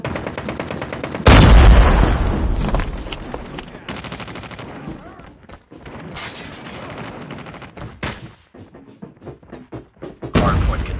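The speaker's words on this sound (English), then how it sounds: "Grenade!" A grenade explosion in Call of Duty Mobile multiplayer, a loud booming blast with a low rumble, mixed with rapid gunfire bursts and later sharp shots, with voices heard among the noise.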